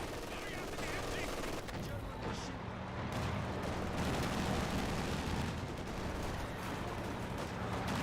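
Machine gun fire rattles in the video game Company of Heroes 2 as a dense, continuous battle din with steady bursts of shots. Speech can be heard faintly under the gunfire.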